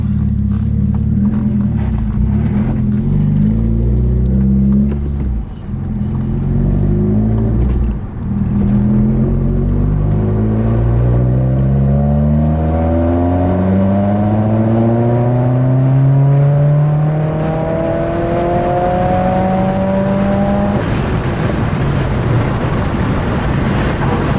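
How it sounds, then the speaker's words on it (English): A Subaru WRX engine pulls hard through third gear with a deep, loud rumble, its pitch climbing steadily over about twenty seconds, close and with wind noise and no talk. "Gonna do a third gear pull for tuning."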